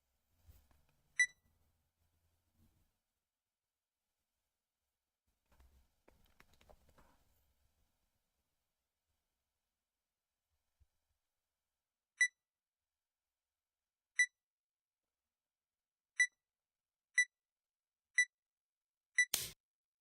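Shogi byoyomi countdown timer giving single sharp beeps spaced about two seconds apart, then quickening to roughly one per second near the end, alone over near silence after some faint rustling early on.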